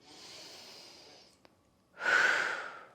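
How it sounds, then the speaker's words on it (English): A slow, deep breath during chair-assisted stretching, heard up close as a long soft airy exhale, a brief pause, then a louder, fuller rush of breath. "Take another nice deep breath in."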